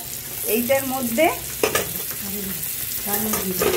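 Nigella seeds and spices stirred in hot oil with a vegetarian banana flower curry, a steady close sizzle broken by several scraping spatula strokes.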